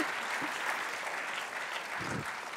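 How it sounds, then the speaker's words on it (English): An audience at the IPT 2019 physics tournament grand finale applauds, with steady, even clapping that fills the whole moment at moderate volume. "give them a round of applause."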